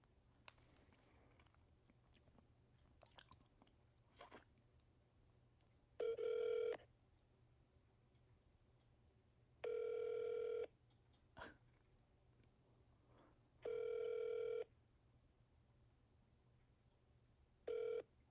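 An outgoing phone call to the Scientology Flag organization rings four times, each steady ringback burst separated by quiet gaps with faint clicks and small handling noises between.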